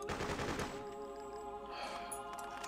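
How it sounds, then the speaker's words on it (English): A rapid burst of automatic gunfire opens a Freedom Fighters (2003) firefight, loud for under a second before giving way to sustained tonal game music. "Just gonna shoot you all."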